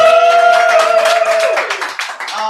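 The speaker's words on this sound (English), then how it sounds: "Let's hear some applause." A small live audience at a podcast recording claps together in a quick scatter of hand claps, joined by a drawn-out cheering voice that gives way to the applause.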